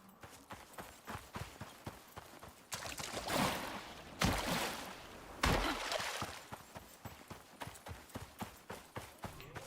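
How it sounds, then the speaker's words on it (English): Deer hooves patter in a rapid run through the open world of the Icarus video game on hard mode, a steady clip-clop rhythm with brief louder rushing bursts midway, fairly close and without talk. "I heard a deer, though."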